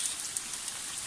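Rain falls in a soft, even hiss of many fine drops, steady and fairly quiet, with no voices.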